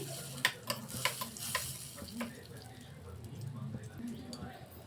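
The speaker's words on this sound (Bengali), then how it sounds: "ঘিটা গরম হয়ে গেছে। এখানে আমরা রতন জোত দিয়ে দিলাম।" Alkanet root (ratan jot) dropped into a teaspoon of hot ghee, giving a soft frying sizzle with a few quick clicks and stirs near the start, continuing low and steady for a few seconds.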